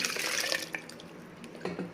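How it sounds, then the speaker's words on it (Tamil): Water is poured from cups into a ragi flour batter for idli, a near splashing trickle that tapers off with a few drips. "ஒன்று ரெண்டு மூணு கப்பு தண்ணி இந்த மாவு கூட சேர்த்துக்கிடுங்க"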